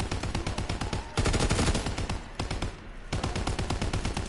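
An MG15 machine gun in a zombies game fires long automatic bursts of rapid, evenly spaced shots, loud and close, with a brief drop in intensity partway through.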